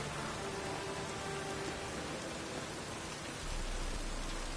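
Steady rain falls and patters on surfaces outside, a dense even hiss that continues without a break and swells slightly toward the end.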